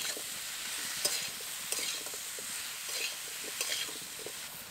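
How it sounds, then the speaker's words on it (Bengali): Vegetables are stirred and fried in a pan, making a quiet continuous sizzle broken by regular scraping strokes of the spatula at a moderate pace. "সবজিগুলো নাড়তে নাড়তে এর মধ্যে অন্যান্য জিনিসগুলো দিয়ে দেবো।"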